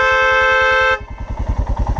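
Royal Enfield Himalayan motorcycle horn, a loud steady tone held for about a second, then cut off to leave the bike's idling engine thumping close by.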